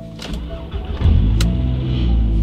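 A Volkswagen Golf GTI engine cranks briefly and catches, settling into a loud, steady idle close by, with a faint whine of a power window beforehand.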